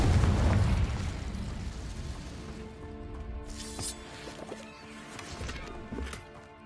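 Confringo, an explosive spell in the video game Hogwarts Legacy, goes off with a loud booming blast that decays into crackling bursts and ringing tonal game effects over several seconds.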